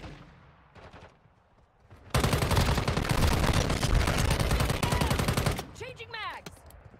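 Sustained automatic gunfire in the mobile shooter Call of Duty: Warzone Mobile, a loud dense burst of rapid shots lasting several seconds, with quieter sporadic shots before it and a brief fading tail after.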